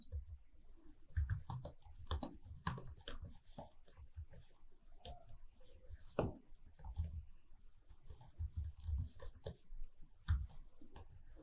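Python code being typed on a computer keyboard, with steady bursts of close key clicks coming in irregular runs and brief pauses between them, and no talk.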